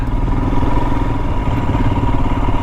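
A 2022 Royal Enfield Himalayan motorcycle rolls along a forest road in winter, its engine a steady, loud, close mid-pitched drone with a faint clatter throughout, unbroken and with no voices.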